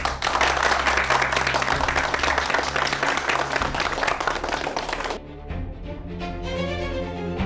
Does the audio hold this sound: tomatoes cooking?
no